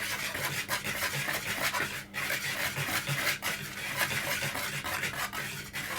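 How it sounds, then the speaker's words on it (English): A whisk scrapes and rubs steadily through dry flour, baking powder and spices in a bowl, a soft continuous rasping with brief pauses and no talk. "I'll take a whisk and mix those around"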